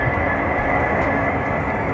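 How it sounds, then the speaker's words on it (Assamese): A train at Dibrugarh railway station gives a loud, steady rumble with a continuous broad roar, and no voices break through it. "ট্ৰেইন"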